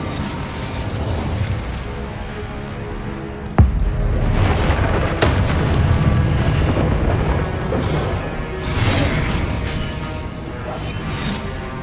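Casting the Incendio fire spell in Hogwarts Legacy throws out a loud fiery blast with a sharp burst, followed by roaring, whooshing flame noise and further impacts over steady game sound.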